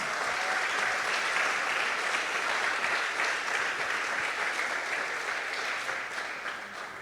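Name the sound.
church congregation applause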